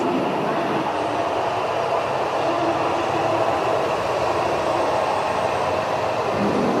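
A Shinkansen E8 series bullet train rumbling steadily nearby in Japan, a continuous roar of wheels and motion with no voices.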